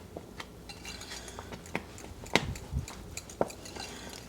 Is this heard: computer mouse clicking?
no